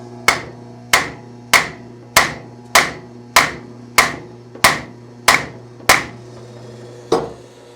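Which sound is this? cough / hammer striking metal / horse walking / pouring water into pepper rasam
hammer striking metal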